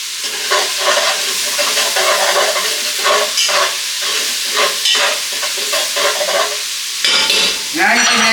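Onions and garlic sautéing in a hot pan, a steady loud sizzle broken by repeated scraping stirs, with a burst of sharper frying near the end.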